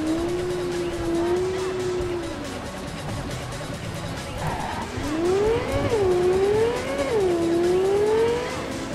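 A car engine in the video game Cyberpunk 2077 drones steadily, then revs up and down in rising and falling sweeps with a hint of tire squeal, loud and close throughout.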